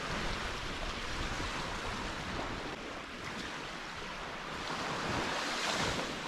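Ocean waves washing onto the shore, a steady broadband rush with gentle swells and some wind noise on the microphone, fairly faint and continuous, no voices.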